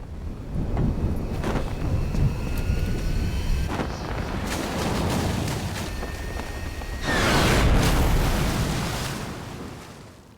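Aircraft engine from the video game Metal Gear Solid 3 Snake Eater, a loud continuous roar with rumbling, wind-like wash that swells near the end, alongside scattered sharp bangs.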